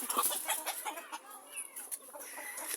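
Chickens, including white hens, clucking and murmuring nearby in a farmyard on a hot day, a soft, continuous stream of short clucks and chatter at moderate distance.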